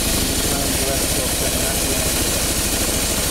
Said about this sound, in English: just make sure you start the bike